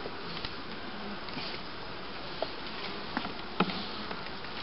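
Autumn honeybees hum in a steady, dense drone around an opened hive, with a few sharper buzzes passing close by.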